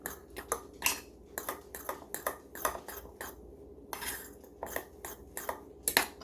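A spoon clinking and scraping against a bowl while a paprika stuffing mixture is stirred, a quick irregular series of sharp taps and rattles close by, with no talking.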